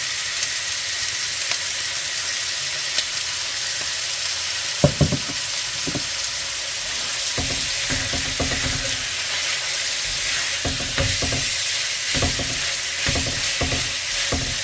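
Oil hisses in a pan during a beef stir-fry, a steady bright sizzle throughout, with occasional stirring clanks and louder spatter bursts near the middle and later on, no talk.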